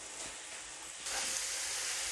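Chicken cooking in its own released water in a pan, a steady loud sizzle and hiss that grows stronger partway through, close by with no talk.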